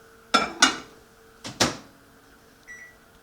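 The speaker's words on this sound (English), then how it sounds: "Everyone's microwave is different, so how long you microwave your your cheese will be different." A microwave oven heating cheese gives a steady, quiet electrical hum under several sharp clunks and clatters, with a faint beep near the end.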